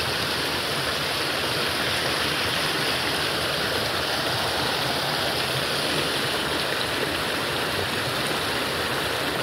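A rocky stream in Batangas City rushes and roars with storm-swollen water, a steady, dense, close wash of noise that never lets up and carries no voices.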